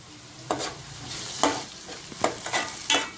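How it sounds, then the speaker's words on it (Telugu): Moringa drumsticks are stirred into golden fried onions in a hot pan for an egg curry: a soft sizzle underneath, with four or five distinct scraping strokes of the spoon at a steady pace, close up. "మునక్కాయలు వేసుకుని ఒకసారి తిప్పుకొని"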